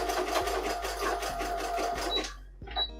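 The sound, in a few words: sewing machine backstitching a dress hem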